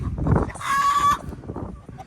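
Hen in a nest box giving a brief raised squawk in the middle, with softer clucking and rustle around it, close and moderately loud.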